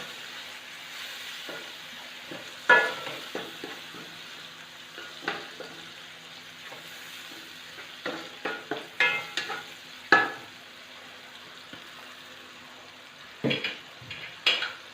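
Onions, tomatoes and spices frying in a pan for tawa keema, with intermittent scraping and stirring clatters over a low steady sizzle; no talking.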